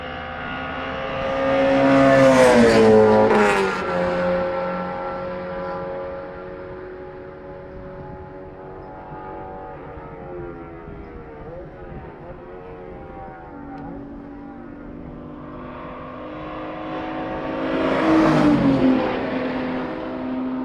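Subaru WRX race car sponsored by Team Subaru Yokohama at Summit Point circuit, engine tone rising loud as it approaches, droning steadily mid-distance, then surging loud again near the end with gear changes.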